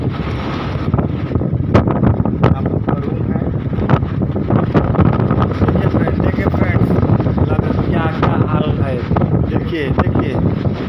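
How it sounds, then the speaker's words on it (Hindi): Strong cyclone wind (Cyclone Biparjoy, near Navlakhi port, Morbi, India) roars continuously, buffeting the microphone, with someone talking loudly in Hindi over it. "देखिए फ्रेंड्स, कितना तेज़ हवा चल रहा है बाहर,"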